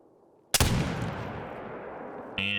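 A single Curman .50 inline rifle shot in theHunter video game: one sharp, loud blast after near silence, followed by a long decaying rumble and a brief mechanical tone at the end.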